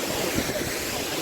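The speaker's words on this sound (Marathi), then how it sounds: "आणि हा जो धबधबा आहे बघा, फुल फ्लोमध्ये वाहतो आहे आता." Abbey waterfall in Coorg pours in full flow after rain, a dense, continuous roar of rushing water heard nearby.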